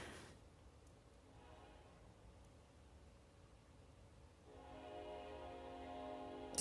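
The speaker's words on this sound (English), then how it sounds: "You guys hear the train?" Train in a snowy SimCity city, a faint distant hum and rumble swelling with a horn-like tone toward the end, quiet and alone with no talking.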